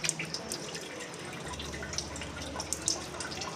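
Water poured while washing fish, a faint running, splashing trickle with a few sharp drips over a low steady rumble, no talk.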